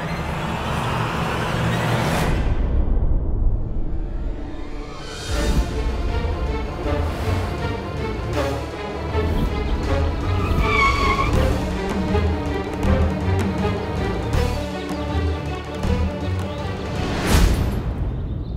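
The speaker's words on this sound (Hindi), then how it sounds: "ये आपने गाड़ी यहाँ क्यों रुकवा दी?" A car drives along with steady engine and road rumble throughout, with occasional louder whooshes and a tire squeal near the middle, close and loud under background music, no clear talking.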